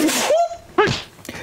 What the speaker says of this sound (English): You're sneezing because you're picking up flowers